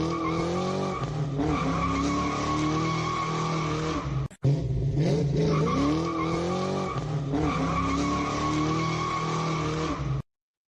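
Muscle car tires squealing and skidding as the car pulls away, long wavering screech over a roaring engine that cuts out briefly midway and then resumes, loud and close for about ten seconds.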